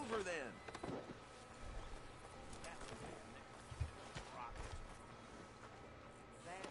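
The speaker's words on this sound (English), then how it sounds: "it won't let me move my horse any faster than this" A horse walks in Red Dead Redemption 2, its hooves clip-clopping faintly and steadily under game sounds, with voices talking in the background.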